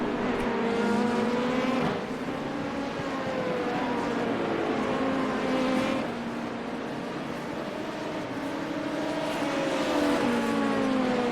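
An LMP2 prototype race car engine roars steadily in the iRacing simulator during an IMSA race, its pitch rising and falling through gear changes as it runs loud and close for the whole stretch.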